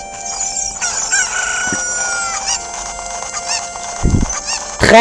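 Cuccos (chickens) cluck and a rooster crows loudly in The Legend of Zelda: Ocarina of Time 3D over a layer of bright electronic music, with busy overlapping squawks near the end.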